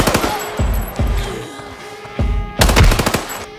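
Gunfire in the video game Arena Breakout, loud close bursts of automatic rifle shots with sharp booming reports, several short volleys separated by brief pauses and ending in a rapid, dense burst.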